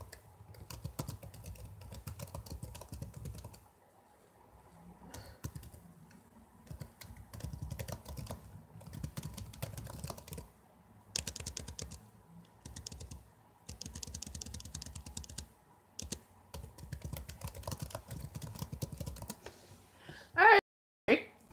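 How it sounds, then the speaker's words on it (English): Rapid clicking of a computer keyboard comes in bursts with short pauses, close and fairly quiet, ending with a louder clatter. "I'm sorry for the typing."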